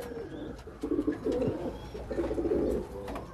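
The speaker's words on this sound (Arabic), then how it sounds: "ده برضو بيجهز العش لحم ما شاء الله. ده زاجل مستوى محترم برضو" Homing pigeon cooing while preparing its nest in a loft, a series of low throaty coos in two clear bursts, close and moderately loud over faint background noise.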